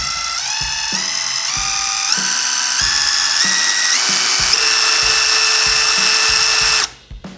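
A Stanley power drill runs at its third speed setting, its whine stepping steadily upward in pitch through several distinct stages with a faint ratcheting tick, then cutting off abruptly near the end.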